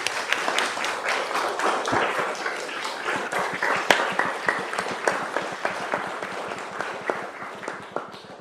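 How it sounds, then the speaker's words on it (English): An audience at a EuroSciPy Python conference claps after a matplotlib tutorial. The applause is full and steady and lasts about eight seconds, with no talking over it. "let's give Tim a great applause for the great tutorial"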